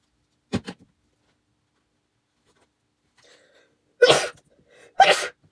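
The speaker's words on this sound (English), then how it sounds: "I don't know why I'm sneezing so much." A person nearby sneezes: one short burst, then a quiet pause, then two sharp, loud sneezes in quick succession.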